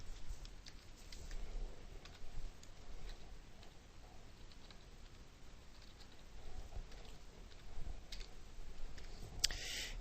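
Soft, faint clicking of fingers typing data on a computer keyboard, irregular taps scattered over a quiet background with a couple of slightly louder keystrokes near the end.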